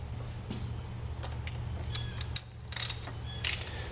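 A bolt being screwed into a lead battery terminal on a 2011 Harley-Davidson Electra Glide Ultra Classic, heard as soft close ticks and clicks of turning metal over a low steady hum, with a few sharper clicks near the end.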